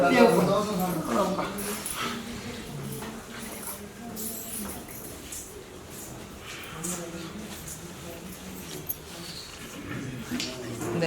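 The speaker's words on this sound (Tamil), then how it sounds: "ரெண்டு நாய்கள்" Two dogs said to guard the eighteen steps of a Karuppannasamy temple whimper, yip and bark intermittently, partly buried under steady talking that runs through the whole stretch.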